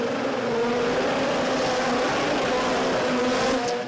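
Mazda RX-7 race car at a drag racing event, a loud continuous engine drone holding a steady high-revving tone throughout, heard from a moderate distance.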